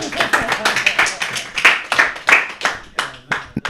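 A small crowd claps at a celebration, a quick, uneven burst of nearby handclaps with shouts and voices mixed in throughout.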